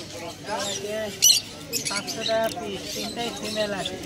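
Cockatiels and budgerigars squawk and chirp in bursts at a crowded bird market in Serampore, heard close among people talking.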